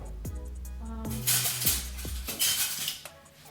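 Metal utensils clink and scrape against a pan and plate while a low-carb, keto chewy nut bar is flipped over, several sharp clatters in quick succession, close and fairly loud.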